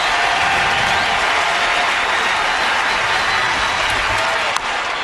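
A stadium crowd at a baseball game roars loudly and continuously, a thick wall of cheering and clapping with no pause.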